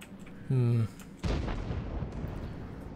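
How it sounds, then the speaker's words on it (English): In a World of Tanks battle, an M4 tank fires a high-explosive round: a short steady tone is followed by a single heavy cannon boom that rolls off into a rumbling decay. "I think it's the M4 firing high explosive at people."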